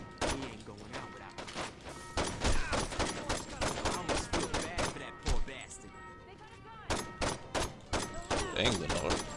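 Saints Row 2 gameplay: repeated gunfire rattles in rapid bursts and single cracks from a street firefight with a sharpshooter, loud and close, with someone talking over the shots.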